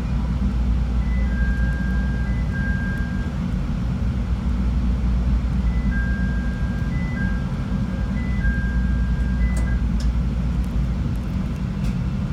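A Chicago Green Line train rumbles with a deep, steady low roar, while short chime-like beeping tones sound in several bursts over the continuous noise as the doors close and the train moves off.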